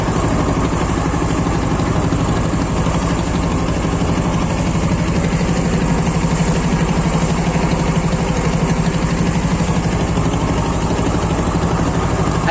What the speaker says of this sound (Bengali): আসলে ইঞ্জিনের সাথে পানির যে ছলাৎ আওয়াজটা আসতেছে,